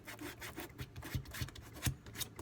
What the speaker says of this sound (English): I'm gonna still sand it, the edge as well,